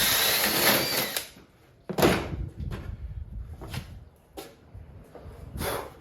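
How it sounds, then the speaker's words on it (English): A 1-inch auger bit drills holes in short loud bursts of whirring and grinding, close by, with quieter pauses between them. "I'm gonna use a 1-inch auger and kind of make holes to clear those bolt heads"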